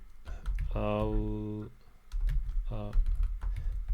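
Quick bursts of typing on a computer keyboard while entering a text label in FreeCAD, close and clear, with short voiced sounds between the keystroke runs.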